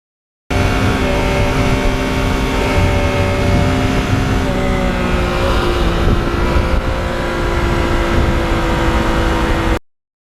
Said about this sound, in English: this bike is quiet. It doesn't have an obnoxious exhaust.